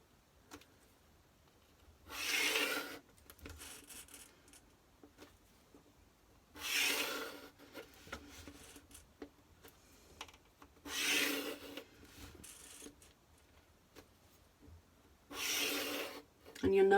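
A pencil draws ruled lines along a slide rule on paper, making four separate soft scratchy strokes spaced a few seconds apart, close and quiet with long pauses between.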